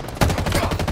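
Video game gunfire during a Strongholds match: a rapid, loud burst of automatic shots in a quick, even rhythm, up close and alone.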